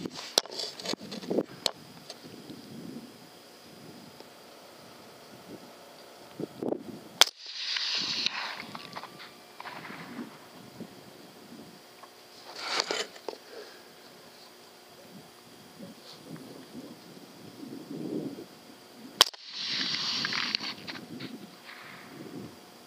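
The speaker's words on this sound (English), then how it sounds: "And then now shooting that CMMG Banshee 200 in 308." A CMMG Banshee 200 MK3 rifle in .308 fires at a boar hog during an outdoor hunt: two sharp, distant-sounding cracks about twelve seconds apart, set against quiet rustling and low background noise.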